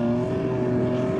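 A Mitsubishi Triton's V6 engine is floored while climbing a sand dune, giving a loud, sustained, close revving drone with steady harmonic pitch.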